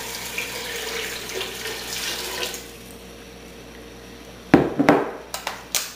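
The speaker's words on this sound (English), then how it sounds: "And to that, I'm going to add 4 cups of beef stock." Four cups of beef stock poured into a pan for French onion soup, a soft liquid stream at first, then a few louder splashes and clanks near the end.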